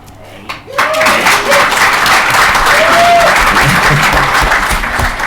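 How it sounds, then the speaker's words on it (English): A crowd at a talk on skeptical parenting breaks into loud, sustained applause that swells quickly after a brief pause and stays dense, with a few whoops or voices rising briefly above the clapping. "It's a pity clap."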